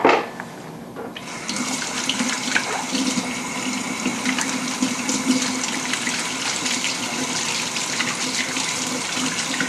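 Kitchen faucet turned on for washing up after handling marinated wild turkey meat, a steady close hiss of running water that starts abruptly after a brief clatter and flows continuously.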